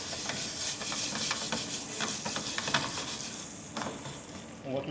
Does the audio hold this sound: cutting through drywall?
no